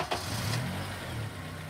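A Honda car engine starts and settles into a steady running hum, close by with no talk over it.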